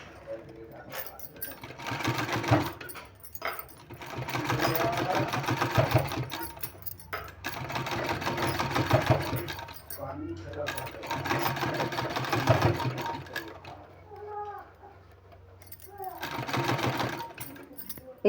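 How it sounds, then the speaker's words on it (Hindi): A sewing machine runs in long stitching bursts while sewing a sleeve seam, loud and close, with short pauses between runs and talk in between. "दूसरे साइड भी इसी तरह से इधर भी हमको सिलाई लगा लेना है।"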